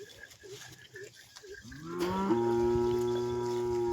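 A bull on a farm lets out a loud, sustained low call that starts halfway through and holds steady to the end, preceded by a few faint short sounds.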